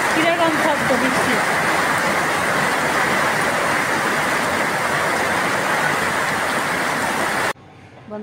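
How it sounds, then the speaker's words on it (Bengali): A heavy downpour of rain outdoors, a loud unbroken roaring hiss with brief speech at the start, cutting off abruptly near the end. "কিরকম শব্দ বৃষ্টি"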